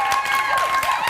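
A studio audience claps, with dense, close applause filling a brief burst and a voice speaking over the top of it.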